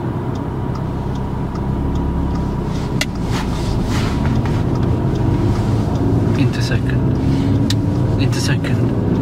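A learner driver's car pulls away in first gear and shifts into second. A steady engine rumble holds throughout with faint ticking, and a voice talks over it.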